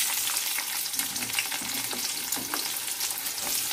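Onion and capsicum sauté in a hot pan for chili chicken, a close, continuous bright sizzle with occasional stirring scrapes and no talking.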